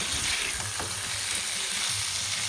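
Potato and pointed gourd curry fries in a pan, giving a dense, even sizzle with faint stirring scrapes, close and steady for a few seconds.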